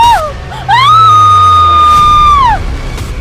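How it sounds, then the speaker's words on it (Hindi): A woman's long, piercing scream for a horror story, rising sharply, holding steady at high pitch for nearly two seconds, then breaking off, loud and close, with a shorter cry just before it. "उसके चीखते ही नेहा भी कांप उठी और चिल्ला पड़ी।"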